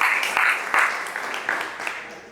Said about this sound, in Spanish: Regálele un aplauso a ese rey que le dio la salvación.